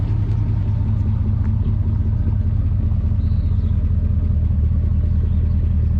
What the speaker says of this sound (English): I hear an old Power Glide whine.